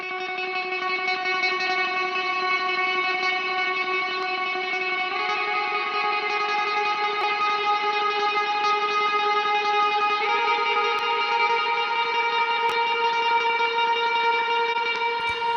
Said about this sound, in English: when I turn it on, the reverb goes up and matches the pick attack in a very nice way